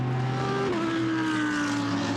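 GT race cars of the Blancpain GT Series Endurance field at Silverstone, bunched in a pack, give a steady, loud engine drone with tones shifting slightly as they pass, continuous throughout with no talk.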